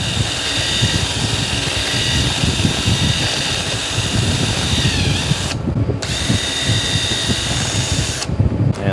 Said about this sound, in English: Go ahead and wire wheel this